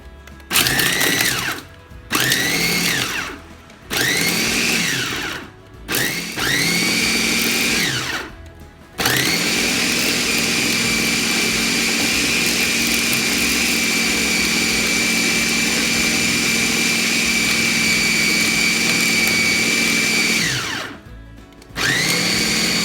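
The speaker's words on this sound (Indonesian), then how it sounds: "Ini kita mau haluskan dulu ya dagingnya." An electric grinder at speed 2 purees meat for meatballs, whirring in several short bursts before settling into one long, loud continuous run, then a final brief pulse.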